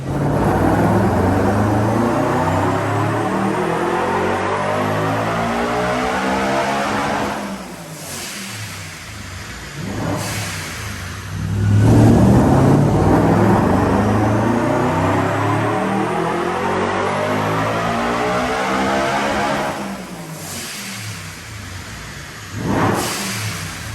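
A loud tuned 650 wheel-horsepower BMW E90 M3 engine revs hard in repeated sustained dyno pulls, rising in pitch with each run, separated by brief drops as it winds down, with no talking.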